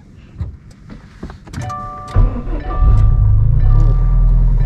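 A car engine, freshly swapped in and fitted with no gas pedal, cranks and catches, then settles into a loud, steady low rumble that fills the second half, with some clicks and faint voices before it fires.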